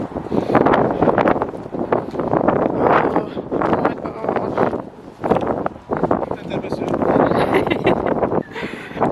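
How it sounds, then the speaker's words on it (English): Strong wind buffets the microphone in steady roaring gusts, with people talking over it. "oh my gosh, and it's windy"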